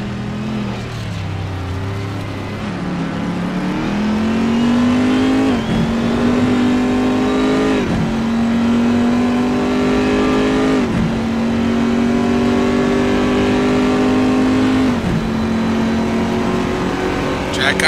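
Race cars in a racing video game at Hockenheim accelerate hard with loud, continuous engine revving, pitch rising through gear changes several times, sustained close engine drone throughout.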